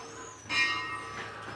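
A church bell rings in Čatež ob Savi with one clear metallic strike that blooms loudly, then leaves a long, shimmering ring that fades slowly, with a softer second swell following.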